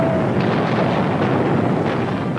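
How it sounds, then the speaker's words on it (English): Russian artillery pounds Berlin in 1945, a dense continuous rumble of distant bombardment with overlapping blasts and no single clear report, heard alone without voices. "now crumbles under the merciless pounding of Russian artillery"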